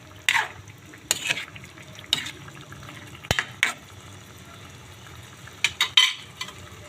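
Squid cooking in a pan as it releases its own water gives a soft, low simmering sizzle, broken by several sharp scrapes and clatters of stirring against the pan.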